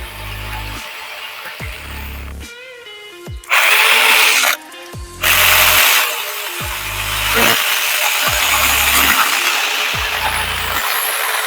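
A Pumpkin 20V cordless pruning saw cuts through wood in repeated bursts: the motor whines up, bites into the branch with rough rasping, pauses, then starts again, close and loud with no talking.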